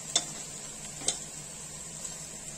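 Sliced onions fry with a steady sizzle in a pan, broken by a couple of sharp scrapes and clinks as they are stirred, close and moderately quiet.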